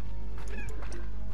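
Cat slime creature in the video game Slime Rancher gives a brief, clear meow over a dense, steady game soundtrack.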